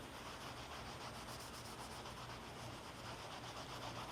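Scrub Buddy pad scrubbing a sandy car floor mat coated with cabin cleaner, a faint, continuous brushing rasp heard close up without talk.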